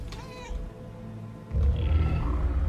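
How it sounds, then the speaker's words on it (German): A cat meows in the video game Murdered: Soul Suspect, a short plaintive call heard at moderate volume over low game background noise. "Ich höre die Katze immer noch miauen"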